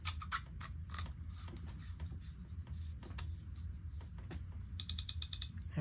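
The drag knob on an Olympic LG DX No. 4 fishing reel is screwed down by hand, giving faint close ratcheting clicks and small mechanical creaks with a quick burst of clicks near the end.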